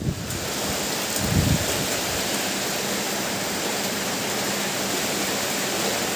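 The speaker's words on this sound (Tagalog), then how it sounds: "Umuulan dito sa aming lugar." Rain falls steadily in strong wind, a dense, even hiss of rainfall with a low gusty rumble near the start, heard alone without voices.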